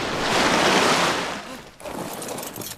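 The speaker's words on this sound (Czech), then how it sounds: "vyhodíme si vor do vody" In the video game ARK Survival Ascended, a raft splashes into the water: a loud, close rush of sloshing surf and spray that swells and then drops off, followed by a quieter wash of lapping water.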